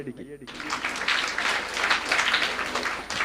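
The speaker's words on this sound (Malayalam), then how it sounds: "കയ്യടിക്ക്." Applause from the audience at a Malayalam church Bible study talk, a dense, steady patter of many hands clapping that swells in right after a short pause and carries on for about three seconds.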